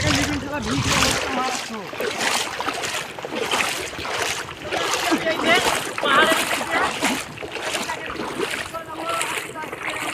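Water splashes and sloshes as it is bailed out of a boat during cold-weather river fishing on the Atrai, repeated scoops over steady sloshing, loud and close, with voices talking over it.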